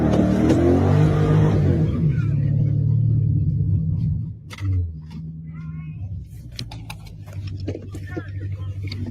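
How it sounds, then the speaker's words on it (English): A loud car engine roars and rumbles steadily close by, dipping briefly before settling into a sustained idle-like drone, with voices of an argument heard over it. "All because my car is loud."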